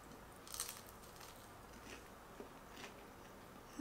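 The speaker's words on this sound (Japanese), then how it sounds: "でも衣のところはちゃんとザクザクしてて、もうめちゃくちゃ美味しいです。" Crunchy bites into an air-fried chicken tender with a crisp coating, heard as a few short crackly crunches spread over a few seconds, close and fairly quiet, with no talking.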